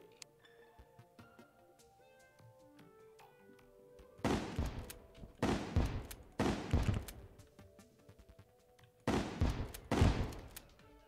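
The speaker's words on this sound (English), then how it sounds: "I'm using a shotgun on a sky creature" A shotgun blasts at a flying sky creature in a video game, five loud booming shots in uneven spacing, some in quick pairs, each ringing out over a quiet tonal backdrop.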